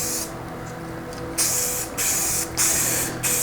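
Rust-Oleum spray paint hisses onto an old Giant mountain bike in four close, loud bursts separated by short pauses, with a quiet gap before the first burst.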